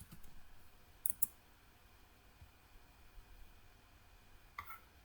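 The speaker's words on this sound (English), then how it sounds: "I'm going to click." A computer mouse gives a few faint, sharp clicks, a quick double click near the start and another click later, set against a quiet background hiss with no talking.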